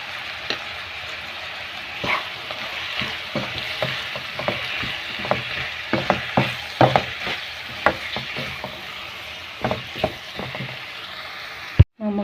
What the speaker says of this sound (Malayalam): എന്നിട്ട് അതും കൂടി ഇട്ട് ഒന്ന് നല്ലോണം ഇളക്കി യോജിപ്പിക്കാം